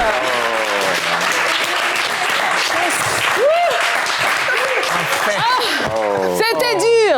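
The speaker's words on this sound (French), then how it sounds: "Applaudissez Samuel." A TV game show studio audience claps loudly and steadily throughout, with a host speaking over the applause.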